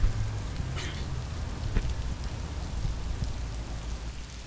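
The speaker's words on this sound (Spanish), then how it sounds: "Ya nos agarró la lluvia." Steady rain in the video game Road 96, a constant wash of drops pattering on surfaces with a low rumble beneath, no voices.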